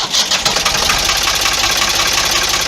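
Ford 3000 farm tractor engine running at idle, a steady loud mechanical rumble with a continuous rhythmic knock that holds even and close throughout, with no talking.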